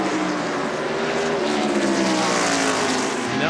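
NASCAR stock cars from the 1996 Holly Farms 400 roar past at North Wilkesboro Speedway, a loud, sustained engine drone with a gradual pitch sweep as the cars pass close by.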